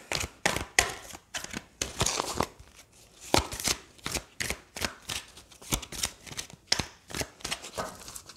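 Oracle cards are shuffled by hand in quick bursts of riffling and slapping, close and crisp, with brief pauses between rounds.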